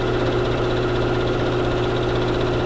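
A sewing machine runs steadily along a quilt seam in flannel with a quarter-inch seam allowance, giving a continuous, even motor hum and rapid stitching throughout at close range with no talking.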